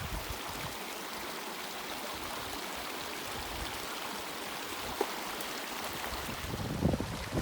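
Water from a mountain stream rushing steadily at a trail crossing on a high, windy route near Hoosier Pass, a continuous broadband wash with wind buffeting the microphone and a few brief knocks near the end.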